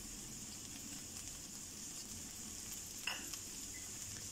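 Cabbage, capsicum and onion hitting a hot pan give a quiet, steady sizzle with faint frying crackle throughout, and a brief clink of a utensil near the end.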